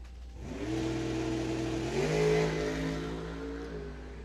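A drag racing car's engine revs at Coles County Dragway in Illinois, a mid-pitched drone that climbs in pitch partway through and holds, fairly distant and alone.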